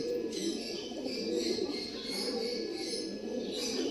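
A loft of breeding pigeons coos without pause, soft overlapping calls forming a steady near murmur for several seconds, no voices on top.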